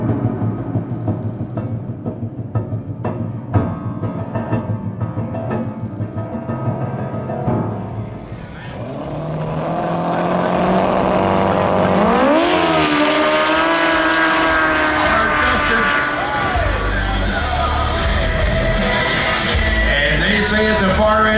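High-power racing snowmobiles, built to around 1000 horsepower and reaching 160 mph, roar through a race, with engines rising to a loud, sustained high-revving scream, and voices talking over the noise in the first part.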